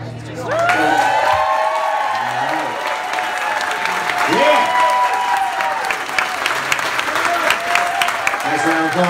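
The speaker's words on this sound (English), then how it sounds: "Nice round of applause once again for Mr. Eric Barnes, ladies and gentlemen." Wedding audience applauds steadily for the entertainer Eric Barnes, a loud dense crowd clapping throughout with scattered whoops and voices mixed in.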